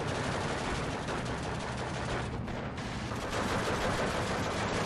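Sustained machine gun crossfire in the World War II strategy game Steel Division 2, a dense, continuous rattle of automatic fire with no pauses, steady and loud throughout with no voices.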